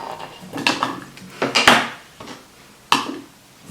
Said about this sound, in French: et mettre ça dans ma casserole